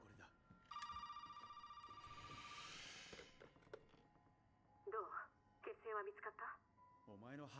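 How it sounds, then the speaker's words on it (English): A phone in Resident Evil 7 rings with a shrill, warbling electronic tone for a couple of seconds, then stops as a voice starts talking. "I completely forgot about this phone call"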